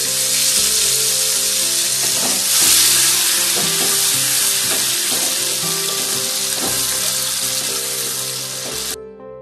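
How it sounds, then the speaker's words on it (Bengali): Onion paste with a little salt frying in hot oil, a loud, steady sizzle with scraping stirs throughout, ending abruptly. "এখানে প্রথমে দেব পেঁয়াজ বাটা, একটু নুন দিয়ে দিই, তাহলে এটা ছিটকে না"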